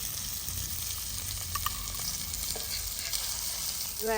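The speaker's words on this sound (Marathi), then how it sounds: "आपला पॉपलेट मासा फ्राय होऊन तयार आहे" Stuffed pomfret fish frying on a tawa, a steady close sizzle of hot oil throughout with a few faint clinks near the end.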